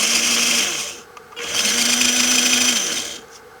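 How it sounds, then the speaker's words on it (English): The electric motor of an RC half-track model drives its front axle, giving two loud, close whirring bursts separated by a short pause, each with a steady, high, tool-like whine. "now I'm about to refit the motor and see whether we have drive to the front axle"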